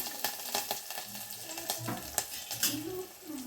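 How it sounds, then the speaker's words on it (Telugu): Curry leaves hit hot oil for a tamarind rasam tempering. They crackle and spit in quick, uneven bursts of popping over a soft background sizzle. "కరేపే వేస్తున్నాను"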